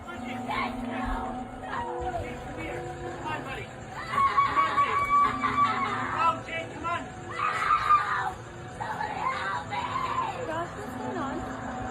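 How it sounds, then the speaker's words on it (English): A woman screams hard inside a van in repeated strained bursts, partly muffled, while a voice yells and other voices talk over a steady background rumble. "A woman inside the van is heard screaming as hard as she can"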